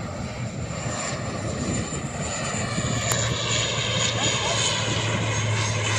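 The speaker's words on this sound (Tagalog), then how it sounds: "kasi mababadaan yung mga eroplano sa pwesto namin" A Philippine Airlines airplane passes overhead near a coastal shore spot in Cebu, its engine drone steady and fairly loud throughout, with a faint voice in the background.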